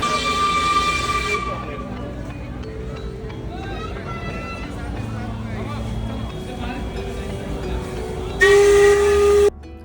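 A Darjeeling steam toy train sounds a loud, shrill whistle at the start and again near the end, with steam hissing and rail-yard rumble in between while people talk nearby.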